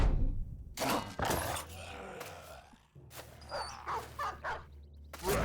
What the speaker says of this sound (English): It's a brave dog.